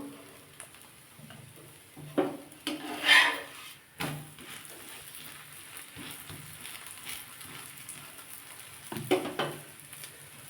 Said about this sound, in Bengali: এই পিঠটা একটু তেল দিয়ে দেবো